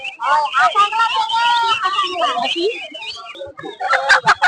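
Chickens cluck and squawk in a lively series of calls at a village poultry market, close and loud, mixed with people talking nearby.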